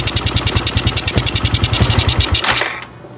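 A small engine running roughly and misfiring, loud and close, with an uneven pulsing beat for over two seconds before it cuts out and the sound quickly dies away.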